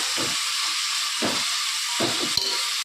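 Chopped onions sauté in a hot pan for a home-style chicken biryani, giving a steady broadband sizzle and hiss that runs unbroken, with a few low stirring knocks and one sharp clink near the end.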